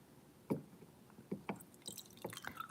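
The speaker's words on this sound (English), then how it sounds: "I'm pouring some water into my container." Water being poured into a paint container makes soft, quiet splashes and drips at irregular moments, close by in a hushed room.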